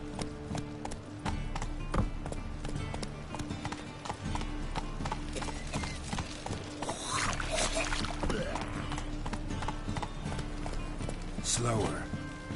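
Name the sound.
hoofbeats of Geralt's horse Roach in The Witcher 3 video game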